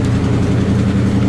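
A mid-1950s Allis-Chalmers engine, once used in a hospital generator set, runs at an antique machinery show, giving a loud, steady low drone close by with no change in pace.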